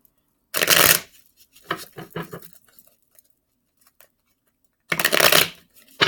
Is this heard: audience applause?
no